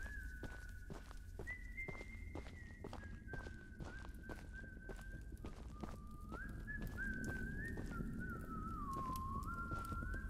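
Whistled tune in the horror video game Choo Choo Charles, a steady wavering melody of long held notes carried over constant low game ambience and soft regular footsteps, moderately loud and without talk.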